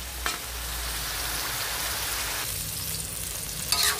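Eggplant sautéing in a hot pan gives a steady, close sizzle that runs the whole time, with a brief stir or clatter near the start and another near the end.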